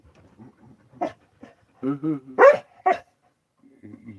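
A dog barks in a few short, loud bursts close by, with whimpering and panting sounds around them and people talking in between.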